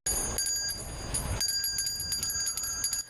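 A Salvation Army kettle bell rings in repeated bright metallic strokes over a noisy background rumble, the ringing irregular and continuing throughout.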